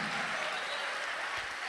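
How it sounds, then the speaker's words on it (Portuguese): A church congregation applauds together at a worship service, a steady, dense wash of clapping that fills the space evenly without speech over it. "Aplauda mais forte ao nome do Senhor Jesus."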